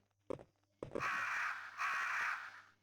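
Crows caw in the Resident Evil DS video game: two short clipped calls, then two long, loud, harsh caws close up.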